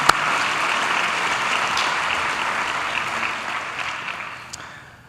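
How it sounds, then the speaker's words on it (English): An audience at a State of Education address in San Bernardino applauds students, steady full clapping from a large crowd that fades out toward the end. "Let's give our students another round of applause."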